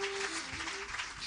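An audience claps hard during a Catholic worship song in Nahualá, a dense, steady wash of applause with a sustained sung tone running through it.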